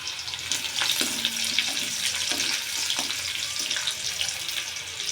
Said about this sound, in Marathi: तेलात थोडीशी मोहरी, थोडे जिरे आणि आपण बारीक चिरलेला लसूण टाकून घेतलाय.